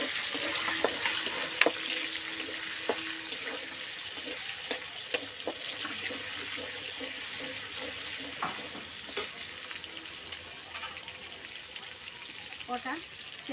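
Tomato frying in hot oil with a little sugar for a chicken curry, a steady close sizzle broken by scattered sharp spatters and clinks of stirring, no one speaking.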